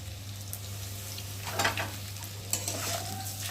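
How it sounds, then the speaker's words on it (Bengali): Spice paste of onion, ginger, tomato and ground cumin, turmeric and coriander sautéed with potatoes in a pan for a Bengali fish curry, giving a steady low sizzle under a constant hum, with two brief scraping stir bursts near the end. "মশলাটা ভালো করে কষিয়ে নেব আলুর সাথে"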